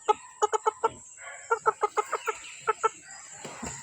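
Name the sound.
chickens clucking on a farm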